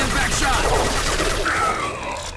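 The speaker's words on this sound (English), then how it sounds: "Firing a high-impact" A high-impact shot in Mass Effect 2, fired amid a rapid, loud burst of gunfire, with a faint voice mixed in as the volley trails off.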